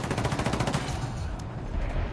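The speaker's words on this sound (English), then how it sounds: "Taking fire, fucking hell." Bursts of rapid gunfire in a first-person shooter video game, dense repeated shots clattering steadily for a couple of seconds at moderate loudness, with no talk over them.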